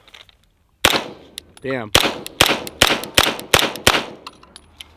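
Langdon Tactical M9A4 pistol, a decocker version, fired at a range: about nine sharp, loud shots in a steady rhythm with a short metallic clatter between the first two, and a brief spoken exclamation.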